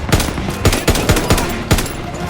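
Call of Duty WW2 gunfire in a World War 2 battle, a loud, close string of sharp shots fired in quick bursts, roughly seven cracks in just over two seconds.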